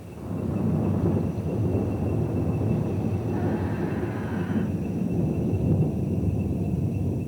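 A long, steady roll of thunder rumbles low and heavy throughout, with a faint windy hiss over it.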